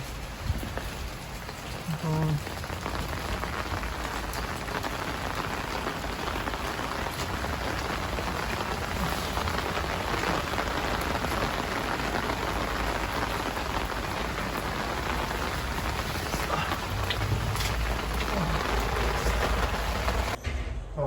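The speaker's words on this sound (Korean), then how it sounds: "이게 다시 또 비가 또 많이 오고 있는데" Heavy rain pours steadily on surfaces outside a building, a dense continuous wash of drops that stays loud and unbroken throughout.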